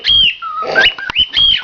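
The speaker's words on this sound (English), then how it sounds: "These are Kim's gay birds that won't shut up" Pet birds squawk and whistle loudly up close in a domestic setting, with several sharp, shrill calls coming in quick bursts.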